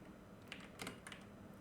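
A computer keyboard being typed on while text is entered for labels, a few quick, quiet, close key clicks in short irregular bursts, with no speech.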